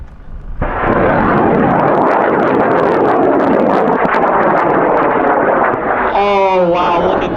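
A high-power rocket motor ignites and roars steadily at full loudness through launch, a harsh, sustained blast at a rocket launch event, with voices and a whistling tone near the end.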